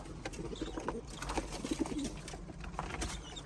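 Homing pigeons in a loft where chicks are being raised coo steadily and close by, with low soft calls overlapping throughout.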